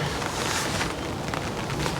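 Steady wind and rain roar outdoors at a lakeside fishing swim on Suffolk Water Park, a dense, unbroken hiss of gusts and rainfall buffeting the microphone throughout, with no voices.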